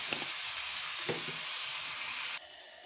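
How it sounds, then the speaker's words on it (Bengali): Potatoes frying in a pan give a steady, close sizzle with a soft hiss that holds evenly, then drops quieter near the end. No one speaks. "আলু ভাজাটা বসিয়ে দিলাম।"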